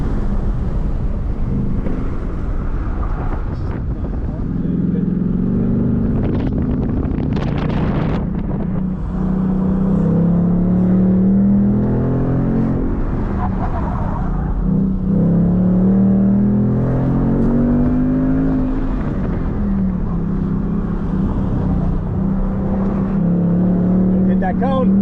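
A Chevrolet Corvette C6 Z06 works through an autocross run in Wichita, its engine droning steadily with rising and falling revs throughout, close and continuous, with faint talk over it at times.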